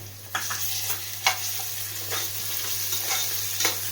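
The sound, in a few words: ginger garlic paste frying with soya chunks in a pan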